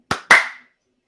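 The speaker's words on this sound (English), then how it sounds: "Okay, so we can do the clap now." Two sharp hand claps ring out close to the microphone at the start of a live tech-news stream, a quick first snap followed by a louder second clap that decays into silence.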